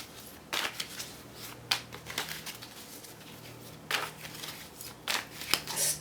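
Tarot cards are shuffled in quick riffling bursts, several separate rounds with brief pauses between, close and fairly soft.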